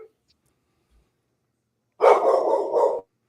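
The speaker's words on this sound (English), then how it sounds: "We got dogs in the background there." A dog barks in the background of a quiet room, a single cluster of several quick, moderately loud barks lasting about a second after near silence.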